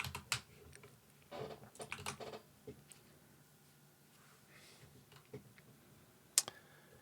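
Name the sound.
typing on a computer keyboard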